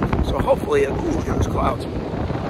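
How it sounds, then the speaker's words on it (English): Strong wind buffets the microphone outdoors, a steady low rumble running through the whole stretch while a person talks over it. "And it's very windy out here."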